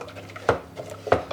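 A spoon knocks and scrapes against a pan while custard is stirred over medium heat. Two sharp clinks stand out against a softer, steady background of scraping, with no talking.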